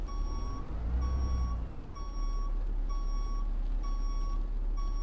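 Bus reversing alarm in OMSI 2 on a UK map, an Enviro E400, repeating steady beeps in an even rhythm, about five in a row with one break, over a constant low engine hum and no speech.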